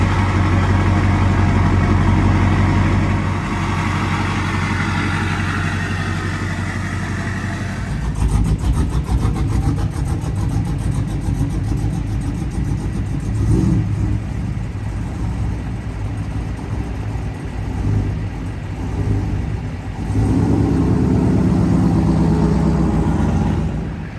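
A Duramax diesel pickup with a straight-pipe exhaust fires up and idles with a deep, loud rumble, then revs in several rising bursts before settling back, the sound close and heavy throughout.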